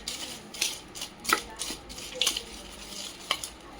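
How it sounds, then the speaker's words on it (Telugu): A crispy chatpata snack is tossed and mixed with onions by hand in a bowl, giving soft dry crunchy rustles and clinks in several short, close bursts with no talking. "యాక్చువల్లీ ఇట్లా మిక్స్ చేసుకోవాలి, ట్రెడిషనల్ స్టైల్."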